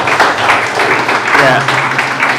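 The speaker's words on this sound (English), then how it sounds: "with a loud round of applause, welcome Comrade Kwesi Pratt" A room full of people at an anti-imperialism political forum applauds to welcome Comrade Kwesi Pratt, a steady close wash of clapping running the whole time with voices over it.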